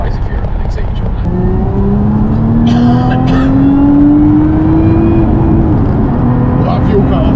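A Lotus Emira engine revs loudly and climbs steadily in pitch, then hits an aggressive fuel cut-off and the rise breaks off abruptly, with voices talking over it inside the car.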